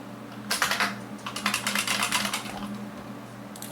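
Fast bursts of typing on a computer keyboard during a Linux session, with dense clusters of key clicks that pause briefly and then resume, close and fairly loud over a faint background hum.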